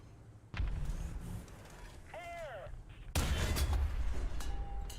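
Tank cannon fire in the War Thunder video game: two loud booming shots with heavy low rumble, the second stronger, separated by a short mechanical whir between them.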